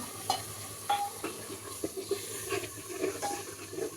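Tomato and spice paste frying in a pan gives a soft, uneven sizzle, punctuated by repeated light spoon taps and scrapes as it is stirred.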